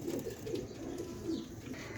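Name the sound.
pigeon cooing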